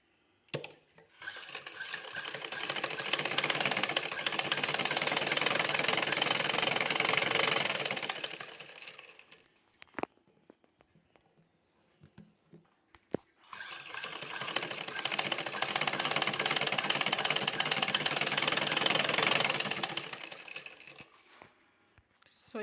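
A sewing machine stitches a blouse in two long continuous runs of steady whirring, loud and close, separated by a brief pause with small clicks and handling noises.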